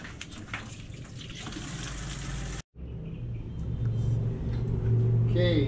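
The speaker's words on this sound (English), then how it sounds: "we're gonna start filling the bucket." Tap water gushes steadily into a bucket as a pre-soak for sea shells before muriatic acid goes in, a continuous rushing flow that rises in level after a brief cut, with rumbling background noise.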